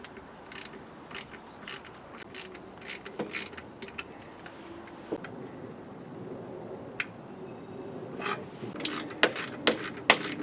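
Intake plenum on a third-generation Camaro/Firebird TPI being shifted while a bolt is threaded, regular metallic clicks and ratcheting taps, close and moderately loud, with no voices.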